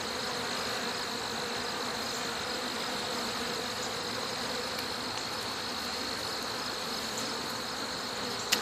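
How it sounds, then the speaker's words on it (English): A calm honey bee hive hums with a steady, dense buzz of many bees close by, even and unbroken, with no voices over it. "Nice calm hive."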